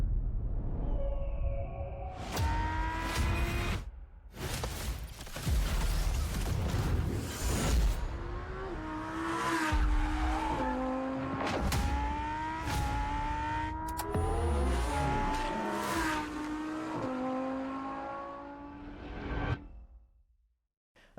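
A supercar, apparently a Lamborghini, revs hard and drives off, its engine climbing through repeated gear changes, loud and close, with whooshing passes and no talk.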